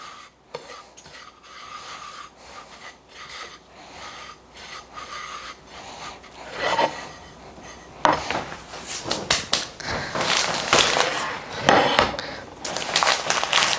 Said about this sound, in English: And then I'm just going to mix it up with my hands.